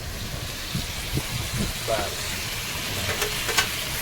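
Live fish tipped into hot oil over spiced masala sizzles and crackles close by, with scattered spits and a few sharp pops, under intermittent talk.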